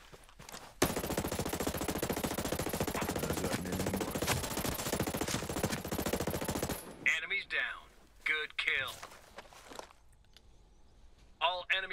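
Sustained automatic gunfire in the tactical shooter Ghost Recon Breakpoint, loud and dense for several seconds, then cut off and followed by a few brief radio-style voice callouts with scattered quieter game sounds.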